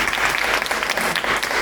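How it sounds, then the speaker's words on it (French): Applause fills a festival round-table on youth entrepreneurship, a dense, steady patter of many hands clapping close by for the whole stretch, with no voices over it. "je pense que ça mérite de l'applaudissement"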